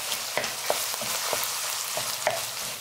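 Ground beef sizzling in a pan as it is broken up into fine crumbles for chili, with a constant close frying hiss and several sharp scraping stir strokes.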